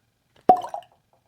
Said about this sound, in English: let's cork pop these bad boys